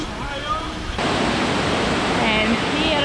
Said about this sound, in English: the waterfall goes straight into the sea.